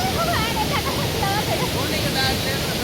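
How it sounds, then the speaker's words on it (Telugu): Heavy water rushes through a full stream at a fishing spot, a loud, dense, continuous roar filling the whole clip, with faint bird or voice-like chirps above it. "ఇదిగోండి ఇక్కడైతే ఫుల్ నీళ్ళు అసలు."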